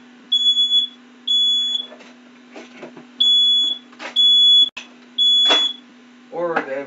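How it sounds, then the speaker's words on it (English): A smoke detector sounds in a workshop, set off by soldering flux fumes after a fume extractor failure. It gives a series of loud, shrill, evenly spaced beeps under a steady hum, and a person talks between them. "And that's the smoke detector, of course, because my fume extractor misses a majority of the"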